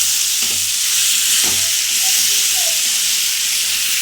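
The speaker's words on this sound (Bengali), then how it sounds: "এবারে জলটা দিয়ে দিলাম।" Water poured into a hot pan of kochur dalna, a loud continuous hissing sizzle filling the clip, with a few soft knocks early on.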